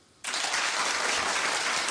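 A talk-show studio audience breaks into clapping, which starts abruptly after a near-silent moment and then holds as a steady, even wash of applause.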